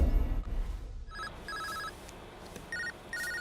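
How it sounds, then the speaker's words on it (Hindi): A mobile phone ringtone in a film scene, with short electronic ring bursts repeating in a quick pattern after a brief low thud at the start, fairly clear over a quiet background. "ए, मोबाइल उठा"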